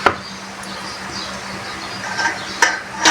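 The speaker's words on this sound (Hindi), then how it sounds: "अब मैं इसमें ये शीरा डाल दूँगी" Jaggery syrup from a kilo of gur poured into hot ghee for sweet jaggery rice, giving a steady low sizzle with soft stirring scrapes and a few light knocks of a spoon against the pot.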